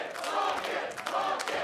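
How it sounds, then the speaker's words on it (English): A big esports playoff crowd at an LCS Summer lower-bracket match between Evil Geniuses and TSM roars a sustained rhythmic chant, loud and dense throughout with a few sharper peaks. "I love the bucket chant from the fans."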